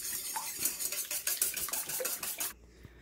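Eggs and egg whites being beaten together with a utensil in a large bowl, a quick series of close clinking taps and scrapes against the bowl that stop abruptly near the end.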